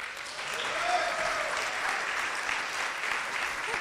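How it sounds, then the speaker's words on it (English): An audience at a community of practice event applauds to welcome a panelist named Danson Mwangi to the stage, a steady even wash of clapping heard from some distance with no talk over it. "welcome this panelist to stage with a big, big round of applause."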